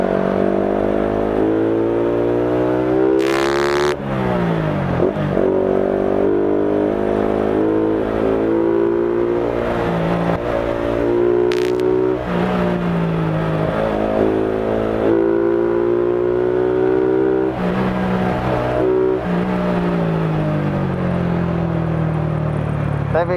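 Honda Future LED motorcycle with an upgraded 63 mm engine accelerating hard through second and third gear, loud, close engine whine climbing in pitch over and over, with short breaks at each gear change.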